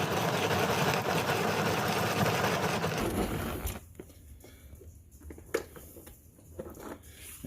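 A hand-cranked chopper mincing pico de gallo ingredients, a loud churning grind for about three seconds, then quieter clicks and scattered knocks as the cranking eases off.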